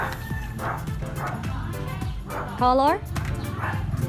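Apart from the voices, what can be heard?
dog barking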